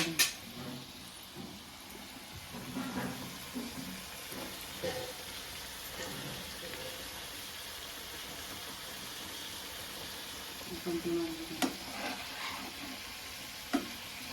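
Fish coated in masala fries in a pan with a steady, faint sizzle, broken by occasional light clinks and stirring scrapes.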